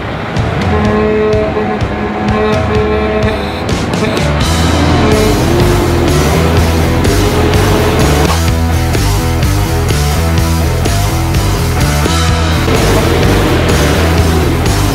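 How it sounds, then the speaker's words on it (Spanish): Car engine running loud and continuous throughout, with rising and falling engine tones and a rough low rumble, plus some clattering noise on top. "les presentamos el carro que va a manejar el Dosmetrín Chaquetín"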